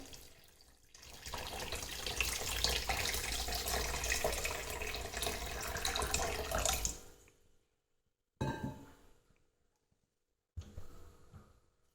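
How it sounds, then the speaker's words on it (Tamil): Water pours steadily into a pan for several seconds with a splashing rush, then stops, followed by two brief trickles after pauses. "800 ml தண்ணியை அதில் சேர்த்துக்கலாம்."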